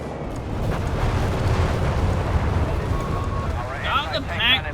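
Rumbling bombing-run explosions roll across a Company of Heroes 3 battlefield, a sustained, heavy low boom that swells and lingers, with a voice speaking over the closing moments.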